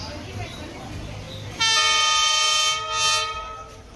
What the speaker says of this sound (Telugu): అందరు లేచిన ట్రైన్ కమింగ్